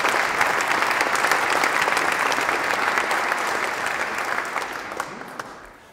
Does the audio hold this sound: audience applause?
yes